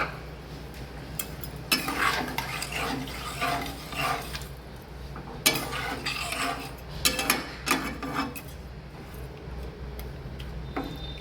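A pot of raw mango chutney with sugar, water and a pinch of turmeric being stirred as it cooks, with clinks and scrapes of a spoon against the pot in irregular bursts over a low steady background.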